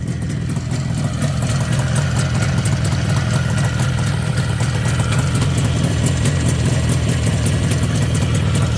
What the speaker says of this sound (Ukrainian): Двіжок працює чисто.